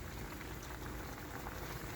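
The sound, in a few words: teriyaki glaze bubbling on high heat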